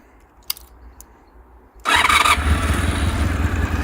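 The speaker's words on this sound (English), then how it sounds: "I'll start her up now so you can hear the V4." A couple of faint clicks, then a Honda VFR400R NC30 V4 motorcycle engine cranks from cold and catches, settling into a loud, steady rumbling idle close by.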